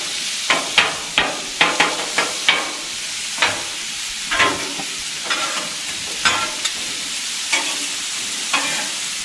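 Spiced ground beef sizzling in a pan under a soft steady fry hiss, with sharp scraping clacks of stirring that repeat every half second or so.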